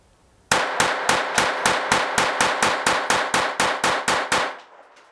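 A KelTec P17 direct-blowback .22 semi-auto pistol firing Winchester M22 rounds in a rapid string of about sixteen sharp, loud shots at a steady rhythm, each followed by a short ringing decay, ending as the slide locks open.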